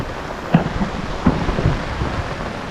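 Heavy rain pours steadily over a tomato patch, with a few short rumbles and thuds of thunder breaking through the constant hiss, close and fairly loud.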